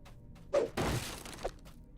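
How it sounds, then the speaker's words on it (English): Wooden crates smashed in the game DDO, a sharp breaking crack followed by a longer splintering crash and a smaller thud, close and clear with no voices. "Crates line the walls. Time to start smashing."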